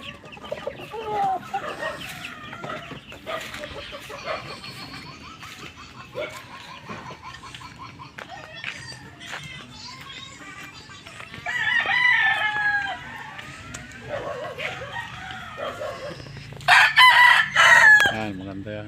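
Chickens and chicks at a farm coop, with repeated clucking, a rooster crowing loudly near the end, and high peeping scattered throughout alongside brief background talk.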